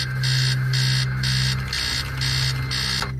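An alarm clock in the horror video game Stories Untold rings with loud, rhythmic electronic beeps in regular pulses over a low hum, then cuts off abruptly near the end.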